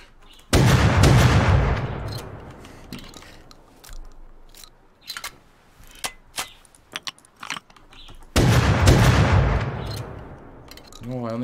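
Two heavy bursts of rifle fire from many guns ring out in a video game survival base fight, each rolling loudly for a couple of seconds, with scattered sharp single shots and clicks between them.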